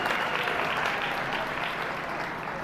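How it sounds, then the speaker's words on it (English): Audience clapping for the third-place showman at a youth goat showmanship contest, a steady, dense round of applause from the crowd holding at even strength throughout. "Give her a big round of applause."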